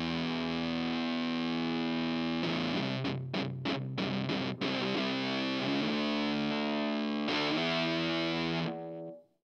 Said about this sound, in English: Let's see how well these TV Jones pickups take the dirt.